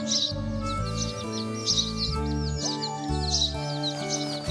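High, repeated cartoon baby-bird chirps flutter above a steady bed of musical score, the cheeping clustered in quick bursts throughout.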